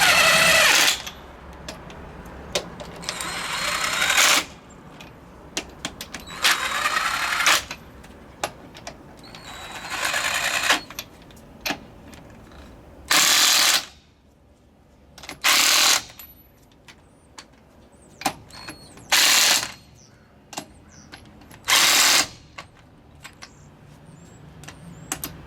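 A wrench tightening bolts on a solid truck axle, a ratchet's rapid clicking in repeated bursts of a second or two separated by quieter pauses, close and loud over a low background hum.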